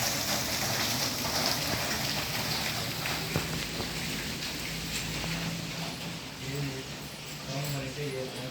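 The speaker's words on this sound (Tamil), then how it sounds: "நல்ல மழை பெய்யும்." Heavy rain falling steadily in Chennai, a continuous hiss of drops on surfaces throughout, with voices speaking over the downpour toward the end.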